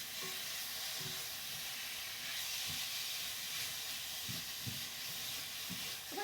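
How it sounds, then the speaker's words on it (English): Meat for chimichangas searing in a hot pan, a soft continuous hiss and sizzle with faint low bumps of the pan, fairly quiet, no talking. "So we're going to get a nice sear on this"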